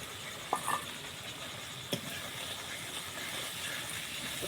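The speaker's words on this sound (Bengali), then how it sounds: "এবার বেশি করে টমেটো কেটে রেখেছি দিয়ে দিব।" Chopped tomatoes go into hot spiced oil in a pan, giving a steady close sizzling hiss with a couple of soft drops near the start.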